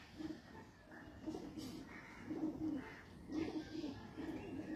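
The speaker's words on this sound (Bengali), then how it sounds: "দেখে নাও গ্রিন আইস পায়রা" Pigeons of the green-eyed type cooing in repeated low throaty phrases at a pigeon seller's loft, several overlapping birds close by with a steady background murmur.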